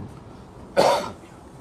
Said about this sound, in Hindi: थोड़ी खांसी है तो बीच में शायद व्यवधान होगा